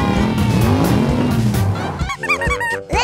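Children's ride-on toy cars driving through a box fort maze while popping balloons, with steady motor whir and squealing tires, then sharp balloon pops and bangs near the end.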